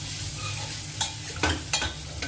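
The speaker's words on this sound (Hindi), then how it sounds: "इसको ना घोटना पड़ेगा।" A pot of mixed dal with black urad is stirred with a few sharp scraping knocks over a soft, steady bubbling sizzle, close and fairly quiet.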